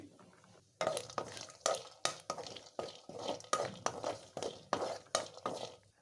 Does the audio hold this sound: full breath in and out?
no